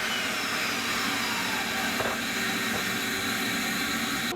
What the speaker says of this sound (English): So next, these are cut to length at the miter saw, leaving again a little bit of extra.